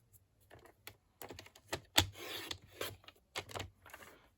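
A paper trimmer slicing through a junk journal pocket, a series of short dry scraping and clicking strokes with brief sliding rasps, close and quiet, no talking.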